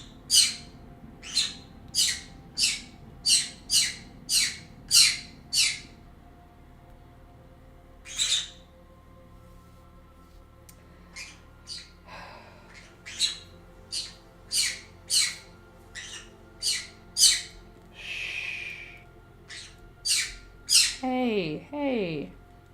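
Birds screeching and squawking in a room during a podcast recording, a rapid run of loud, evenly spaced harsh calls, then more irregular squawks over a low background hum.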